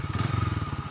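A motorcycle engine putters along with a fast, steady thumping idle-like rhythm, close and fairly loud, throughout a short moment of riding.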